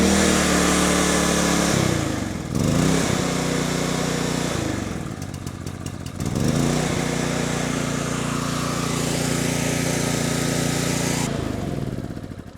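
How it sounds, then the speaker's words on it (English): An Efurden 4400-watt inverter generator is pull-started and its small engine runs loudly up close. The engine sound dips and wavers twice before settling into a steady drone. "We're gonna turn the choke on and we're gonna give it a few pulls and see what happens."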